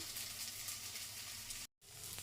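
Okra and sliced onions frying in a pan, giving a steady, even sizzle and bright hiss throughout. The sound cuts out to silence briefly near the end and then resumes, with no one speaking.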